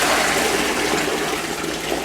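Water from a Danby 70-pint dehumidifier's collection bucket pours out in a loud, steady gushing stream, close up and without talk.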